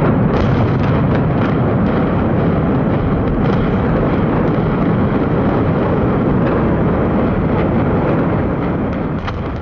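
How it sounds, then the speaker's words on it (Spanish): A massive, continuous roaring rumble fills the air, dense and loud throughout with no pauses, as the J.L. Hudson's department store building in Detroit collapses after its 1998 implosion. "La explosión fue tan fuerte que rompió los escaparates de las tiendas aledañas previamente evacuadas."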